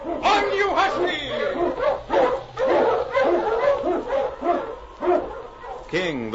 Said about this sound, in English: King, the swiftest, strongest of Eskimo lead dogs, blazes the trail through storm and snow